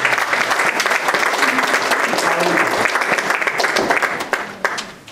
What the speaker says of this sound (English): Give God a hand of applause.